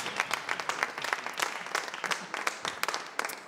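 Audience applause after a song performance at a Swiss song contest selection show, a dense sustained clapping from a live crowd, fairly distant and steady throughout with no talking.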